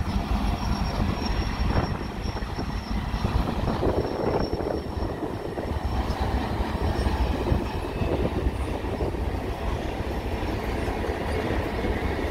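A CN freight train rumbles past close by on a windy day at Snider West, with continuous heavy rolling noise, rail clatter and occasional wheel squeal, steady throughout.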